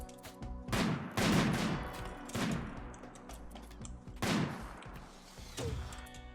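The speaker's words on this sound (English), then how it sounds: "The first mortar fire." Mortar fire and gunfire in the colony-sim game Rimworld during an ambush: several heavy booming bursts and crackling shots, loud and close, separated by brief lulls with a low rumble between volleys.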